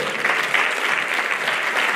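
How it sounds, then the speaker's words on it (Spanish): Loud, dense applause from an audience at a mountaineering awards gala, a steady wash of many hands clapping that holds evenly from start to finish with no voices standing out. "Fortes aplausos"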